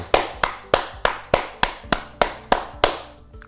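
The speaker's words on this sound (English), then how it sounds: "And clapping." Nine sharp hand claps at a steady, even pace, close and fairly loud, with no talking.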